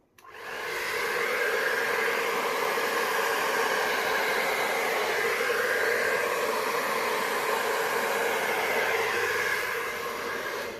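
A steady, loud rush of blown air, like a hair dryer, runs continuously across acrylic Dutch pour paint, starting abruptly and holding constant for about ten seconds.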